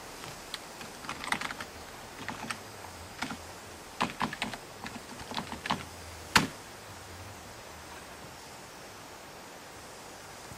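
Quiet, irregular keystrokes on a computer keyboard enter login credentials, clustered taps with short pauses and one sharper click, heard close and alone against faint background hiss.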